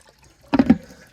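Water from a DIY koi pond filter tub splashes and trickles in a brief burst of a few quick drips and gurgles, faint and close, after near silence.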